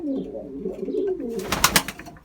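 A young crested YanarDöner pigeon gives a low, close cooing call, followed by a short burst of flutter or rustling near the end.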